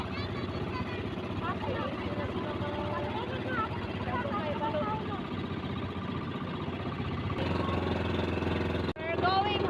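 Boat engines rumble and drone steadily during a fluvial river parade for Señor Santo Niño, a continuous mechanical hum under nearby talking voices.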